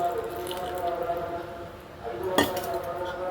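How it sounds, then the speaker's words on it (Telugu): Boiled and cooled milk pours into tempered curd rice in a metal vessel, a soft steady splash with a faint clink of utensils and a brief sharper knock partway through, over light background noise. "కాచి చల్లార్చిన పాలు పోసుకోవాలి దీంట్లో."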